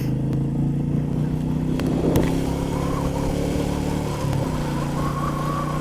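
A Royal Enfield Meteor motorcycle riding through countryside, its engine a steady, even drone with wind rush, holding constant without revving.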